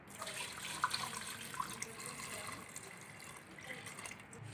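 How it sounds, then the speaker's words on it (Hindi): Water poured from a glass into a cooking pot of spiced beef for yakhni, a soft splashing gurgle with a few light clinks, quiet and close. "अब हम इसमें 4 गिलास पानी डालकर इसे चूल्हे पर चढ़ा देंगे"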